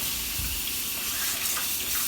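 Tap water runs steadily over a barbecue grill being washed outdoors on a cold night, a continuous broadband hiss and splash, close and fairly loud, with no talking.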